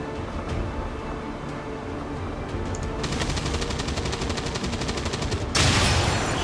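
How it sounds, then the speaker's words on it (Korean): A Reaper fires a headshot in XCOM 2, heard as rapid gunfire that builds over a few seconds and ends in a louder burst and impact under steady game ambience. "리퍼로 막타 치면 되니까 리퍼로 헤드샷"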